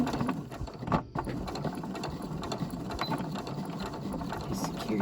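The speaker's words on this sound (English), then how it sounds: "I'm going to go forward and backspace a few stitches and then go forward." Sewing machine running forward and backward stitches, a close steady mechanical whir of rapid needle clatter with a short pause near one second before it resumes and hums on evenly.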